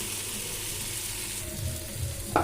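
A spice paste with coriander fries in a pan, giving a steady hissing sizzle with soft scraping as it is stirred. A brief clatter of utensils comes near the end, and nobody speaks.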